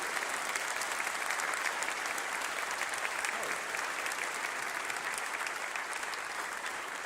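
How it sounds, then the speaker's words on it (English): An audience at a holiday brass band concert applauds the band's sections with steady, dense clapping, sustained for about seven seconds at an even level and easing only slightly toward the end. "Can we get a round of applause for each of our sections really quick?"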